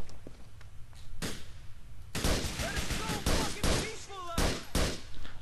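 Gunfire in Grand Theft Auto IV cracks out in loud, close bursts: a few spaced shots early on, then a dense run of rapid fire with short pauses between volleys.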